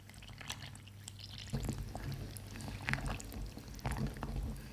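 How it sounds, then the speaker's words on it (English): Oreo cake batter mixed with milk, soft wet gloopy squelches and sloshes repeating close by at a quiet level, no talking. "that kind of gloopy mixing noise"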